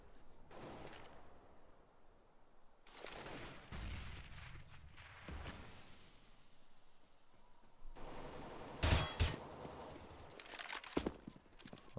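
Bursts of gunfire from a Counter-Strike match on the de_nuke map, with scattered shots early and a loud, dense volley near the end, over steady background game noise.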